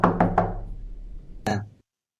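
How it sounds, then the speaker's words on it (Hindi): Three quick knocks on a wooden door, followed by a pause and a single heavier knock, close and loud in a quiet room. "तभी थोड़े देर बाद दरवाजे खटखटाने की आवाज सुनाई देता है।"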